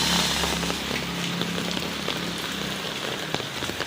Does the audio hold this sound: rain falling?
yes